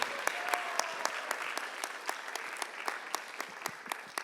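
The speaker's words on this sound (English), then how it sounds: "Round of applause for our trio." A school audience at a writers expo applauds a trio of performers: steady, moderately dense clapping with distinct individual claps cutting through, continuing evenly for a few seconds with no voices.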